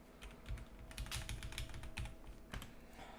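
Quiet clicking of fingers typing on a computer keyboard, bursts of keystrokes in an irregular rhythm with brief pauses, close and faint, no talking.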